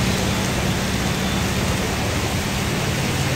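Stormy rain in Nagpur, a dense, loud, continuous rush of rainfall and wind that fills the whole clip with no breaks.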